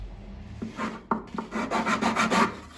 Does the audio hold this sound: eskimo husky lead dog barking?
no